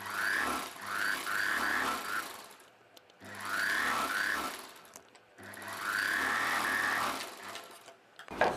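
A sewing machine stitches a long dress sleeve in three bursts of rapid, even running, each lasting about two seconds, with brief quiet pauses between them, close and clear.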